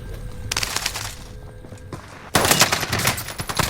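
Rapid automatic gunfire rattles through a Warzone gunfight, loud and close in sustained bursts, with a heavier burst erupting about halfway through.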